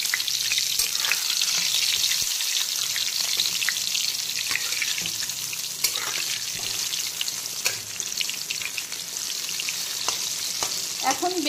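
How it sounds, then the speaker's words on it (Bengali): Brinjal pieces, still on their stems, fry in oil in a pan, giving a steady close hiss of sizzling with occasional soft clicks as they are turned, no talking. "এখন বেগুনের উল্টো দিকটাকেও একটু ভালো করে ভেজে নিতে হবে"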